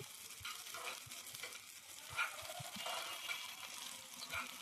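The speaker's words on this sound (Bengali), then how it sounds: "এই যে দেখতে পাচ্ছেন আমি নাড়াচ্ছি।" Ingredients for a Bengali paayesh topping are stirred as they lightly fry in a pan. The sizzle is soft and distant, with faint scraping and a few gentle knocks.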